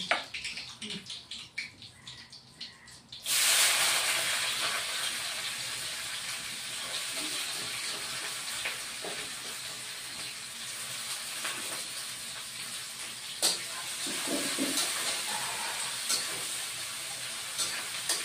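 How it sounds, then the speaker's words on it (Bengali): Chopped onions dropped into a hot pan and frying, a sudden loud burst of hissing sizzle that settles into a steady close frying hiss. "তারপরে কুচানো পেঁয়াজ দিয়ে দিচ্ছি।"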